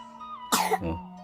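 A sick child with a fever gives a single short, close cough with a throat-clearing quality, standing out over a quiet room hum.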